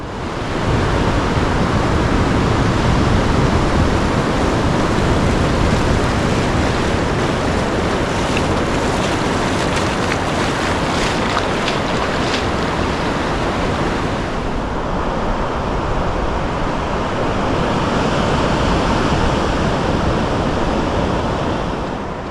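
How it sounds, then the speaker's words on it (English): Surf rolls and breaks on Pwll Du Beach on the Gower coast, a loud, continuous wash of crashing water with wind buffeting the microphone and no voices. "And I think also the surf, that'll also calm down."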